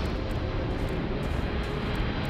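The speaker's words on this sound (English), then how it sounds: "Why does it sound like a jet is taking off?" Engine roar of a spaceship landing in Starfield, a steady jet-like rumble and hiss that holds at an even loudness throughout, with no voices.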